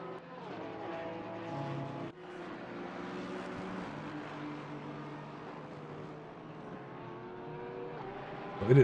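Porsche race cars competing in the Imola 24 Hours endurance race, engines droning steadily with shifting pitch as they run close together, loud and continuous, with a sharp burst right at the end.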